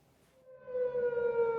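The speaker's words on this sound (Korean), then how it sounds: "비상 사이렌이 울려 퍼집니다" A civil defense emergency siren sounds at a US military base in Dongducheon, South Korea, at night, a single rising, sustained wail that swells in loudness and holds steady, heard alone without talk.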